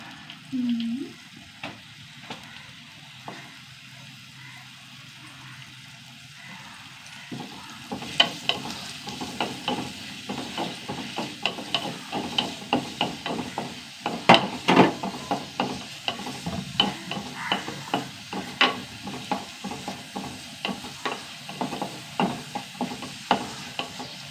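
Ash gourd curry with onion sautés in a pan, a low quiet sizzle at first, then repeated scraping and clacking stir strokes that grow busier and louder near the front.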